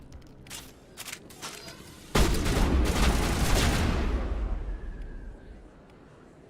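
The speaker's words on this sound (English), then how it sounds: "Shotgun." A shotgun firing in the video game Mass Effect, with scattered shots early on and then a loud blast at about two seconds that leaves a long rumbling, noisy tail. Game background sound runs underneath.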